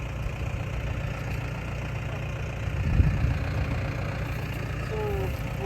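A small farm tractor engine idles steadily near an irrigation pivot, giving a constant low rumble with no clear changes. There is a faint bump about midway and no speech.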